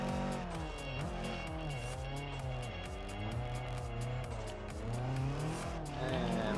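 A car revs hard and shifts up through the gears while drifting, engine tone climbing and dropping repeatedly with tyre squeal, loud and close throughout.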